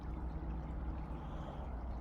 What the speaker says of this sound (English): How interesting that water is still flowing.